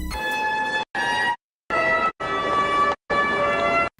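An ambulance siren wailing in short repeated bursts separated by brief gaps, loud and close with no voices.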